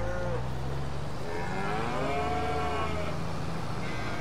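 Cows on a dairy farm in Farming Simulator 22 moo in long drawn-out calls over a steady loud background hum, several overlapping lows rising and falling.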